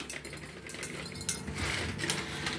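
Black peppercorns are poured into a jar for Polish-style pickled cucumbers, giving a close, continuous patter of small hard clicks and clinks against glass.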